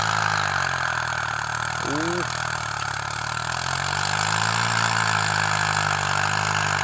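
A loud M85 farm tractor engine runs steadily with a deep, even drone while working with a four-disc plough. A brief, faint vocal sound breaks in partway through.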